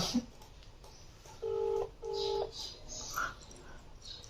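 Two touch-tone dialing beeps from a telephone, each about half a second long with a short gap between them, moderately loud over a quiet room background.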